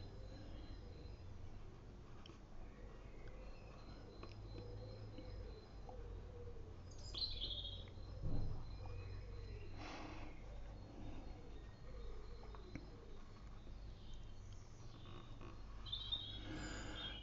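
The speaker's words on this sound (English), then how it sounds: "Not surprised the birds sing." Birds singing outdoors near many garden bird feeders: quiet scattered chirps and short calls over a faint insect-like background hum, distant and sparse, with no talk.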